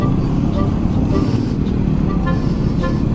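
Busy street traffic in Caloocan City heard from a small motorcycle: a dense constant roar of engines with several short car horn toots poking through.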